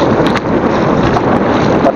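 Strong wind blasts steadily across the microphone in an open outdoor spot on a fishing trip, a loud, continuous rumbling roar with brief flutters.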